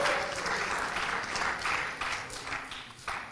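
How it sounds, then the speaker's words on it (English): Audience in a church applauding, a steady, moderately loud wash of many hands clapping that fades slightly toward the end. "Let's give Tim a round of applause for that set up there."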